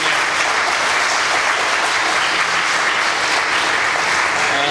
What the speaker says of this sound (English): you haven't heard the great clapping